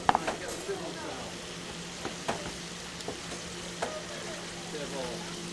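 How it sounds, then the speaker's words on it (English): Food frying in a pan at a culinary competition, with a quiet steady sizzle broken by a few sharp crackles and stirring clatters close by. "Get the sizzle sound."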